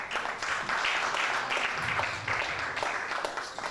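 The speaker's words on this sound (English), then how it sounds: "let's clap for him" A hall audience applauds steadily at a Rotary Club presidential investiture, a broad wash of claps at moderate level with no speech over it.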